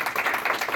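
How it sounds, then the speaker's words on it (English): A brief round of applause from the audience at an anime convention game show, several people clapping in a quick, close, uneven patter. "let's give a round of applause,"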